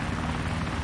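A helicopter in the Arma 2 video game gives off a dense, continuous rotor and engine roar, heard up close and loud throughout a short burst.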